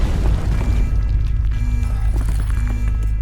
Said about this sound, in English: Some kind of explosion, lower plant ring.